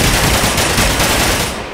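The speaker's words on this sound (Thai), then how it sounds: "นี่เสียงปืนว่ะมันเหมือนยิงผมเลยครับ" Automatic gunfire from a modded firearm in Minecraft rattles loudly and continuously, a dense burst that fills the whole stretch and tails off slightly at the end.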